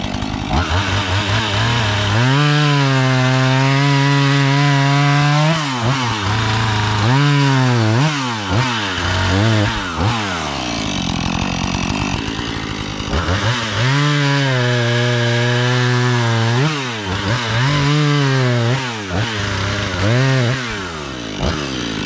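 Loud chainsaw cutting in repeated bursts through a tree stuck and hung up, engine revving high under load and dropping back to idle between cuts, close by with no talking.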